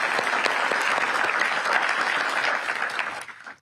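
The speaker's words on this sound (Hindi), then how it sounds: "उसके लिए भी तालियां।" Loud, sustained applause from an audience at a Pariksha Pe Charcha event, dense clapping that holds steady and then tapers off and fades out at the end.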